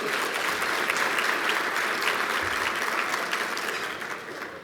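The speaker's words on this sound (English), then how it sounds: "let's give them a round of applause today" Audience applause for two musicians at an event, a loud full burst of many hands clapping together that stays steady and then tapers off toward the end.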